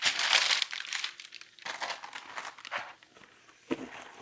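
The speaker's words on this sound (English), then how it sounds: "line a cookie sheet with some parchment paper." Parchment paper crinkles and rustles up close while lining a cookie sheet, loud crackling bursts at first, then intermittent softer crumpling and a final sharp crinkle.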